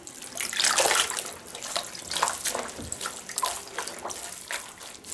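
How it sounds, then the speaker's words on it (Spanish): A knitted garment is rinsed in clean water, giving irregular splashing and sloshing with a running-tap rush in bursts, fairly close and moderately loud, with no talk. "lo van a lavar o enjuagar con agua limpia las veces que sea necesaria"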